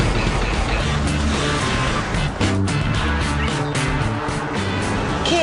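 Volkswagen Tiguan and Kia Sportage SUVs driving together, a steady loud engine and road drone with wind rushing past, continuous throughout with a brief dip midway.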